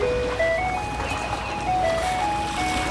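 An ice cream boat's jingle plays on a lake, a steady chiming melody of bright tones over the low hum of the boat's motor, continuous and fairly close throughout.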